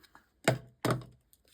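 Two short crisp snips of scissors cutting card for a handmade greeting card, close and fairly quiet, spaced a moment apart with faint small taps afterward.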